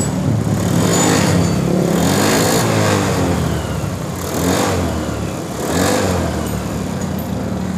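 A Honda Beat scooter engine with a stock exhaust revs repeatedly, rising and falling in several throttle blips over a steady idle, close by.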